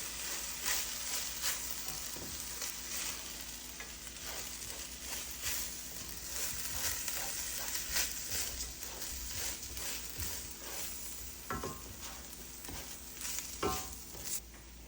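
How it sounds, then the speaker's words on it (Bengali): Raw rice grains for pulao being stirred and dry-fried in a pan, a steady scraping and gentle sizzle with rhythmic clinks of the spoon, continuous and close, no talking. "এইভাবে অনবরত নেড়ে নেড়ে চালগুলিকে ভেজে নিতে হবে"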